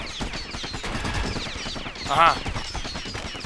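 Pincushion enemies firing volleys of thorns during Bastion gameplay, dense rapid shooting bursts over a game soundtrack, with a brief exclamation from a player partway through.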